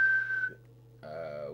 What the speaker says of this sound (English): Quick whistle test, see what we've got.